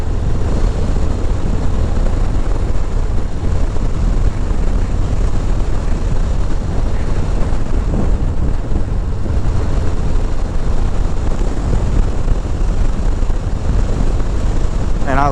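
Riding a Harley-Davidson Low Rider S motorcycle on a chilly cruise: a continuous, loud rush of wind roar over a low engine rumble, steady throughout with no breaks.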